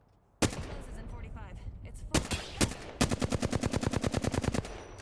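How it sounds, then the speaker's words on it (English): Gunshots in Apex Legends: a few loud single cracks are spaced apart, then a fast, steady string of rapid-fire shots runs for nearly two seconds before cutting off. "Those were just warning shots so that he would run away scared and lead me to his teammates."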